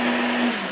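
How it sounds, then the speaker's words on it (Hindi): A handheld electric blender runs with a steady motor whir and hum, close and constant for a brief moment. "और इस क्वालिटी का हैंड ब्लेंडर आता भी नहीं है, ये हैंड ब्लेंडर हो गया"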